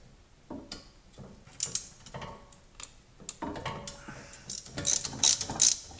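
Ratcheting and metallic clicking from a T30 Torx bit backing out bolts on the front stabilizer end link of a 2013 Volkswagen CC 3.6 VR6 4Motion, irregular bursts of ticks growing louder toward the end, with no talking.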